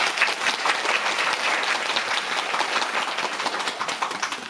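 At a curtain-call stage greeting after a musical performance, an audience applauds the musicians and staff with steady, even clapping from many hands throughout, no voices standing out.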